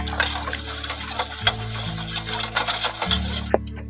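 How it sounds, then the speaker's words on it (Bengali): A spoon stirs semolina into milk in a bowl for an eggless sponge cake batter, scraping and clinking against the bowl in short close strokes, with a few sharp taps standing out. "সুজিটাকে দিয়ে ভালো করে মিশিয়ে নিচ্ছি দুধের সঙ্গে"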